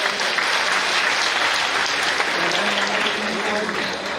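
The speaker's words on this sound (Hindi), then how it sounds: "तालियां रुके नहीं।" Sustained applause from a large crowd at a school or college event with a chief minister, dense and steady clapping filling the space for several seconds, with voices faintly mixed in.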